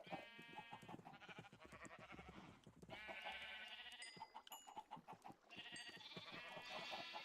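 Repeated sheep bleats from a flock of sheep in the Minecraft video game, several overlapping calls close and loud through the clip with no talking.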